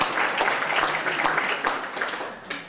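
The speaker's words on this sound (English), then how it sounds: "I want everyone to give them a really big round of applause" Conference audience applauding an integrated healthcare team, a dense continuous patter of clapping that stays fairly loud and tapers slightly near the end.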